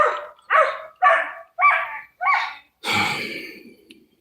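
Dogs bark close and loud: five sharp, evenly spaced barks, then a longer, rougher bark that trails off.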